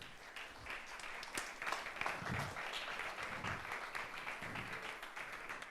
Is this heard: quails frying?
no